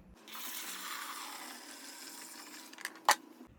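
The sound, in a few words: pouring cleaning solution into carpet cleaner machine tank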